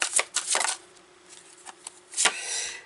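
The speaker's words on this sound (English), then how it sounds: "you guys saw me shuffling this" Tarot cards are shuffled up close in quick riffling bursts, soft papery flutters separated by short pauses, quiet and without speech.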